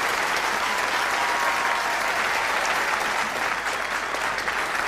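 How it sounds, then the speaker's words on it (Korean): An audience at a large hope rally event applauds loudly and steadily, a dense wash of clapping from many hands that fills the whole stretch without a break. "큰 감사의 박수를 올려주시면 좋겠습니다"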